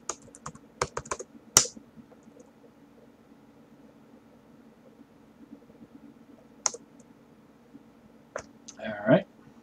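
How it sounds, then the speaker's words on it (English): A computer keyboard typed on in a quiet room, a quick cluster of clicking keystrokes at the start, then scattered single clicks and a brief final burst of taps, with faint breathy voice sounds in the background. "So to reboot, you just type reboot."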